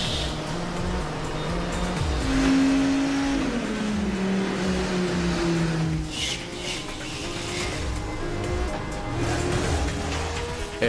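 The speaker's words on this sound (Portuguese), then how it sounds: "O Viper vai ligar o motor pela primeira vez e atingir velocidades maiores que 100 km por hora." A Dodge Viper engine runs on a dynamometer test rig at the assembly plant, a loud continuous drone that climbs in pitch with a sweeping rev, then settles into a steady mechanical roar with no talk over it.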